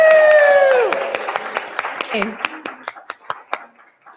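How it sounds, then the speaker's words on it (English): An audience claps to welcome a speaker named Chris onto a conference stage, sparse hand claps rising as a held musical tone fades, the clapping thinning out toward the end. "Carry on the claps, don't make this all."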